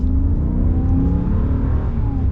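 A 2022 Ram 2500 Power Wagon with its 6.4-litre Hemi V8 pulls hard, the engine's deep steady roar rising in pitch as it accelerates, loud and close throughout.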